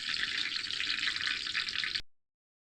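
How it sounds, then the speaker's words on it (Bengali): Goja sweets deep-fry in hot oil with a steady, close, bright hiss and sizzle that holds for about two seconds before cutting off abruptly into silence. "দেখুন এভাবে করে কিন্তু সবগুলো ভালো করে ভেজে নেব"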